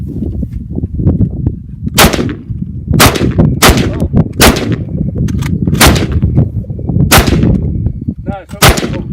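An SKS rifle fires at cans outdoors, with about nine loud, sharp cracks spaced irregularly over a rumbling background and a faint metallic ring after one shot.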